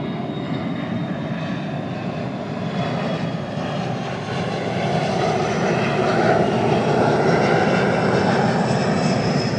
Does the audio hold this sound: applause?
no